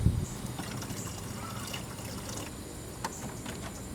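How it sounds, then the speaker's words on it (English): Water is poured into the windshield washer fluid reservoir of a 2002 GMC Yukon, a faint, close trickle and splash with a few small knocks. "I'm just going to pour some water in there for the time being"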